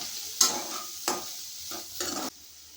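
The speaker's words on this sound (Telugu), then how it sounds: "పసుపు, అల్లం వెల్లుల్లి పేస్ట్, ఉప్పు కొద్దిగా వేసుకొని వేయించుకోవాలి 1 నిమిషం పాటు." Raw banana pieces fry with turmeric, ginger-garlic paste and salt in a pan, stirred in four distinct loud scraping bursts over a faint sizzle before the sound drops away.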